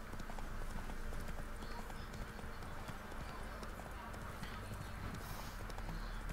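Horse hooves clip-clop steadily in The Witcher 3, a continuous trotting rhythm mixed with game ambience and occasional speech over it.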